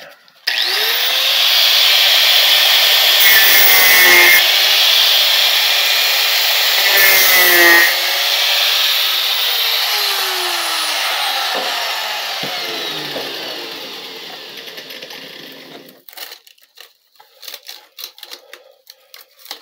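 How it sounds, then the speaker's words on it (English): An angle grinder with a cut-off wheel cuts blowgun darts. A loud, continuous high whine shifts pitch as the wheel bites, runs for about fifteen seconds, then winds down, followed by scattered light clicks and handling noises. "Angle grinder, cut off wheel. It's just the easiest way to go, really."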